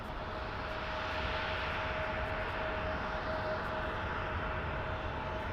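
An airliner taxis at Bristol Airport in Microsoft Flight Simulator, its engines a loud, steady roar with a faint whining tone running through it, unbroken and unchanging throughout.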